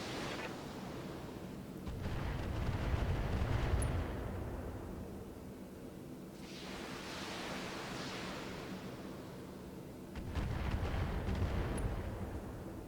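Mech weapons fire in Battletech as several heavy, rumbling volleys, each swelling into a broad roaring wash that fades away before the next one, with no talk.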